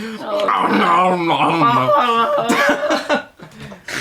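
A person imitates a dog barking, a run of yips and yaps in a strained, whiny voice, close to the microphone.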